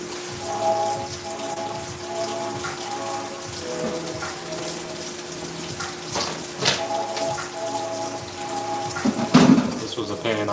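Rain from a Hurricane Beryl thunderstorm pattering steadily on outdoor surfaces, with water trickling, faint birdsong and dish clatter mixed in, and a louder splashy burst near the end.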